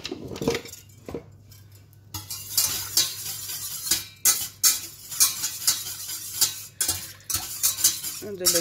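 A spoon stirs a gelatine mixture in a bowl, giving repeated close scraping and clinking strokes in an uneven rhythm, loud against a quiet background with no talking.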